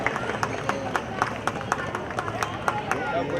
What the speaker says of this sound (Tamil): ஒரு பலத்த கைத்தட்டு வரதராஜனுக்காக.